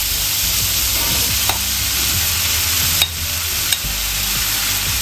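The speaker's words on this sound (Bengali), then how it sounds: "দিয়ে একটু কষিয়ে নেব।" Marinated chicken with ginger paste sautés in a hot pan for an Indian-style masala pasta, giving a steady, loud sizzle throughout with a few sharp spoon or spatula scrapes while stirring.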